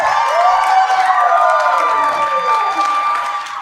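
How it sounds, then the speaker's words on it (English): Audience at a magic show bursts into loud applause with cheering and whoops, a dense sustained crowd roar that stays strong and begins easing toward the end. "Give him a big round of applause!"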